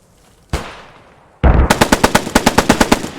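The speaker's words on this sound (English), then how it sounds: "quick return of fire with... what is that again? The MG, the British MG" A British machine gun in the video game Post Scriptum: a single sharp shot, a pause, then a loud close burst of about a dozen rapid, evenly spaced rounds, alone with no talk.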